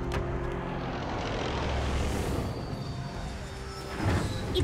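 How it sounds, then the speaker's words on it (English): An animated show's helicopter approaches as a steady engine and rotor drone that swells toward the end, loud and alone with no talk. "Chopper's coming!"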